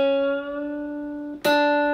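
A single guitar string rings out as a clear sustained note during half-tone bend practice, fades slightly, then is plucked again sharply and sustains to the end, alone and up close.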